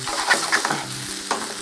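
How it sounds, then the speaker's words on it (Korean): Thin slices of beef brisket sizzle and crackle as they are stir-fried in an oiled frying pan over high heat, a steady close frying hiss with a few sharp pops and stirring scrapes, with no talking. "차돌박이 먼저 볶아보도록 하겠습니다. 이렇게 소리가 나셔야 돼요."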